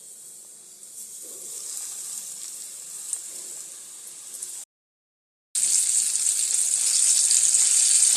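Food sizzling in hot oil, a steady bright hiss that breaks off briefly and returns louder and denser, with no talking.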